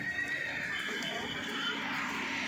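A horse whinnies amid steady outdoor background noise, with faint hoof movement; the call is moderately loud and not very close.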